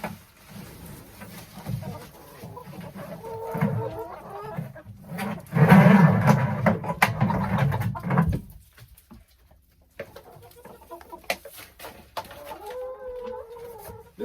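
Chickens cluck softly around a waterer near a coop, with scattered low calls over a rustling, patterned background. The sound is moderately close, and a louder noisy stretch comes midway.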